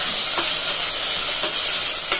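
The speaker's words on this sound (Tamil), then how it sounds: "புதினாவும் கொத்தமல்லியும் நல்லா கிளறி கொடுத்துக்கலாம்." Mint and coriander stirred in a hot frying pan, a steady bright sizzle with a few soft scraping strokes of the spoon, close and continuous with no talking.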